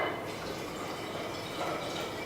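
Water pouring steadily into a container holding about a cup and a half of honey for a half-gallon batch of mead, a continuous close splashing fill with no break.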